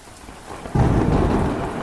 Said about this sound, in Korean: 판초 위로 덮은 헬멧 위로 떨어지는 빗소리.